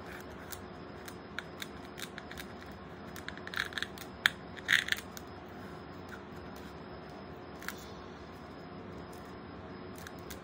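Scissors trimming a Dollar Tree pumpkin decoration, soft scattered snips and crisp cuts, a few clustered around the middle, faint and close in a quiet room.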